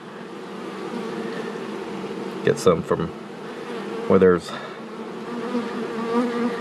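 Honey bees buzz steadily in a low drone close by at a hive, while a person briefly speaks twice over the hum.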